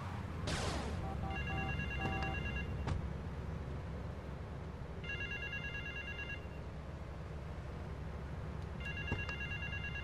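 In the remastered GTA Vice City, a phone rings in three separate trilling bursts with pauses between them, over a constant low ambient hum.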